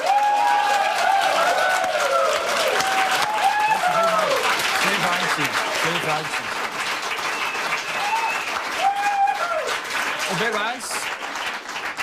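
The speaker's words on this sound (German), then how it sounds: "Wer es gerne gehabt hat, soll das mit einem Applaus bezeugen." A studio audience at a Swiss rural cooking show finale bursts into sustained applause lasting the whole stretch, dense and steady clapping with crowd noise while a presenter speaks over it.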